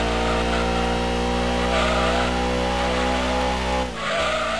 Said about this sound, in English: This big burly car can scoot